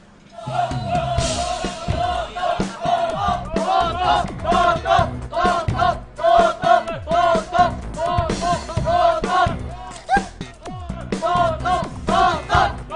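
An angry crowd shouts and yells outside a massage place while stones are thrown at it. The voices are loud, chaotic and continuous, with overlapping cries and chants that surge and dip for many seconds.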